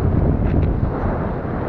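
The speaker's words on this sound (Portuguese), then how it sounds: "Hoje tá ventando muito" Strong wind buffets the microphone with a steady low roar throughout the short clip, with no voices.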